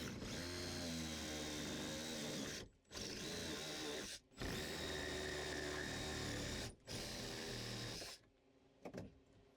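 A power tool cuts through rotted frames of an old wooden boat, a loud close motor whine running in three long bursts with short pauses, then stopping.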